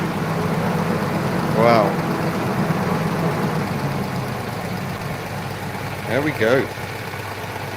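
A Citroen 2CV engine runs steadily on a dyno, a moderate, even drone with a faint, constant low tone, while a person makes a couple of brief exclamations over it.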